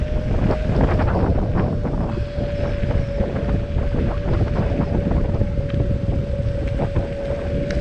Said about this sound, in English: wind is in our face, so we're fighting against the wind